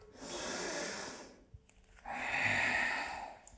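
A deep nasal inhale during a yoga breathing exercise for the hips, drawn close and audible, preceded by a long exhale and then a brief pause before the breath is taken in.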